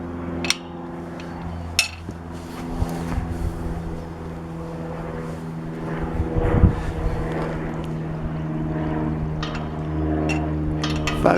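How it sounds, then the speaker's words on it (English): An airplane flying overhead above an abandoned graveyard gives a steady, droning engine hum that persists throughout. Scattered clicks and footstep-like knocks sound nearby, and no one speaks. "I'm looking at the plane."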